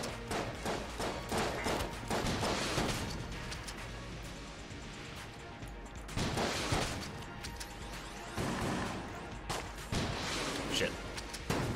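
RPG rocket launcher firing in the roguelike shooter Enter the Gungeon, repeated blasts and thuds in bursts amid busy game effects and music, with a player talking over it.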